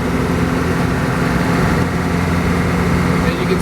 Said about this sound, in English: now I'm driving just about 80 kilometers an hour